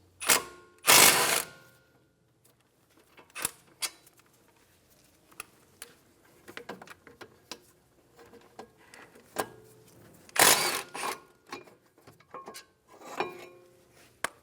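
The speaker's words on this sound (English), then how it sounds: "Using a 17mm socket, remove the bracket bolts." A 17mm socket on a ratchet loosens the caliper bracket bolts on a 2013-2017 Honda Accord's front brake, giving sharp metallic clicks and clunks with two loud bursts among quieter scattered ticks and taps close to the mic.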